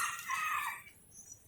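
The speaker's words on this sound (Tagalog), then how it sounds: "Yung manok doon, pagpapahinga sila din sa araw." A rooster crows once at a distance, a faint drawn-out call of under a second, with quiet farmyard ambience after it and no talk.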